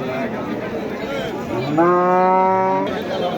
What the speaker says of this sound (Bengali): বিশাল গরু হলস্টিন ফ্রিজিয়ানের গরু